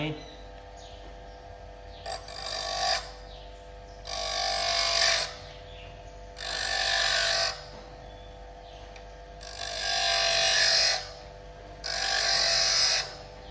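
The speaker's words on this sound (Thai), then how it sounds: "เดี๋ยวลองมารับดอกสว่านดูว่าเป็นไงครับกำลังใช้ได้ไหมรับดอกสว่านคมดีไหม" A 6-inch bench grinder sharpens a drill bit in five bursts of harsh high grinding, each lasting a second or two, over the steady hum of the running motor between passes.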